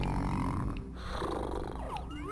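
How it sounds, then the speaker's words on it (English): A sleeping llama snores in the Donkey Kong 64 video game, a loud, steady, rumbling snore that fills the whole stretch without pause. "Gosh, listen to this snoring."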